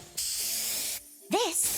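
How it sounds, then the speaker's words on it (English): Two bursts of hairspray from an aerosol can in the video game NTE, a close, bright hissing spray lasting nearly a second, a short pause, then a second spray as a voice begins speaking over it. "One spray to victory, Fluffy Tail Hairspray!"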